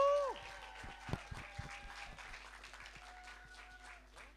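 Scattered audience applause for a singer at a London talent show, a thin spread of claps at low level after a brief whoop, sparse and uneven rather than a full ovation.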